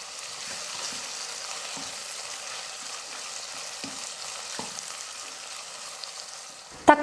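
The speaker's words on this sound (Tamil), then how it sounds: "கூடவே கருவேப்பிலையும் சேர்த்துட்டு நல்லா வதக்கிக்க போகிறேன்" Tomatoes and curry leaves sautéing in a pan for a Tamil chicken gravy, giving a steady, even sizzle with light stirring scrapes, then a sharp louder clatter of the utensil at the very end.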